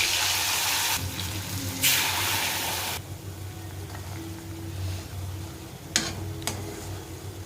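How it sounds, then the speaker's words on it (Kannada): Marinated chicken drops into hot oil and sizzles loudly, a bright hissing burst that softens after a few seconds into a steady quieter frying crackle with occasional pops. "ಸ್ವಲ್ಪ ಹೊತ್ತು ಮ್ಯಾರಿನೇಟ್ ಆಗಲಿ, ಮತ್ತು ಫ್ರೈ ಮಾಡೋಣ. ಆಯಿಲ್ ಬಿಸಿಯಾಗಿದೆ."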